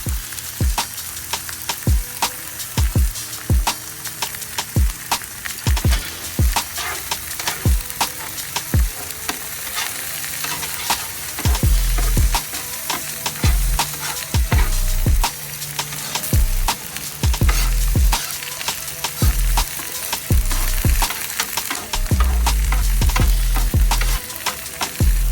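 Steaks searing on a Blackstone griddle with seasoning salt, giving a loud, constant close-up sizzle and crackle with dense popping spatter that continues without pause and with no voices.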